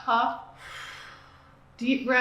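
A patient performs a forced huff exhalation during airway-clearance breathing, a soft breathy rush of air between a voice giving instructions before and after.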